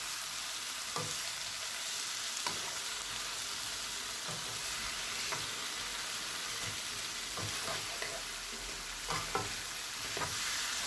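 Keema with three chopped tomatoes and chopped green chilies, for a karela keema dish, sizzles steadily in a pan while a spoon scrapes and stirs it in scattered clicks and knocks, close up with no talking.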